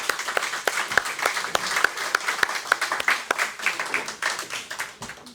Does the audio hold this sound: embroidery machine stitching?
no